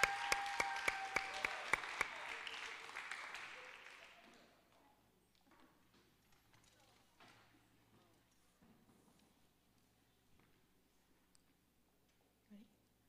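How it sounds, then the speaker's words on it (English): A burst of clapping and applause from a small group fades out after a few seconds, followed by quiet murmuring and faint movement. "applause."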